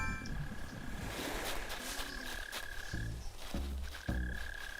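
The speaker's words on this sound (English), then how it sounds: "So I keep hearing these mole crickets." Mole cricket chirping from underground in Animal Crossing: New Horizons, a low repeated croaking trill in short bursts, quickening toward the end over faint game ambience.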